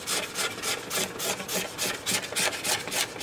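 A slightly curled razor blade scraping along the wooden body of a bass, a steady run of about a dozen quick rasping strokes in a regular back-and-forth rhythm, close up with no talking.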